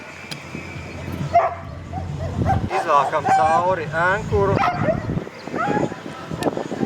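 Sled dogs bark and yip excitedly nearby, with whimpers mixed in, while someone talks over the noise.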